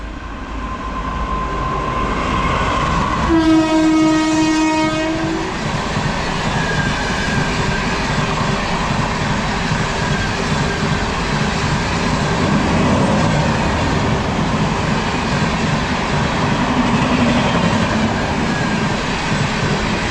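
A WAP 7 electric locomotive hauling special passenger train 07447 through Ghatkesar sounds one loud, sustained horn blast near the start, then roars past with a steady, close, heavy rumble of wheels and carriages that continues to the end.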